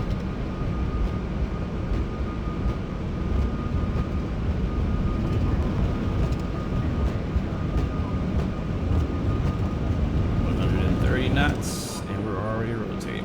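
Steady engine drone of an airplane on its takeoff roll in X-Plane Mobile, a constant loud hum held throughout, with someone talking over it.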